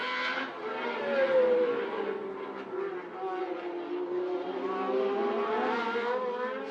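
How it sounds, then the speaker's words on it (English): Talbot and Ferrari Formula 1 cars racing down the straight at Jarama in 1981, engines screaming at high revs in a sustained, wavering whine, with a commentator talking over the top. "the Talbot seems to me to be every bit as quick as the Ferrari as they go down the straight"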